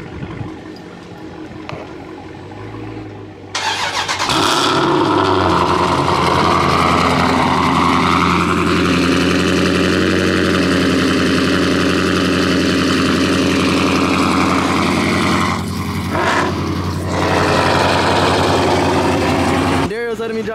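A Hellcat car engine fires up about three seconds in with a sharp rise in volume, then settles into a loud, steady, rumbling idle that holds close and constant to the end.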